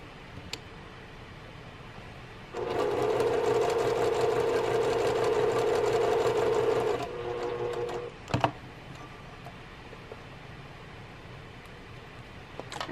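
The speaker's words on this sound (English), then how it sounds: "I'm going to sew on that line" A sewing machine stitches a seam on a quilt block, a loud, steady mechanical whir lasting several seconds before slowing and stopping, followed by a brief clack of handling and quiet room tone.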